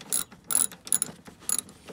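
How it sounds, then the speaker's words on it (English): A hand ratchet clicks in short bursts while screws are tightened on a Ram 1500 headlight, with four or five quick clicking runs spaced through the clip, close and fairly quiet. "Now we're just tightening up the screws."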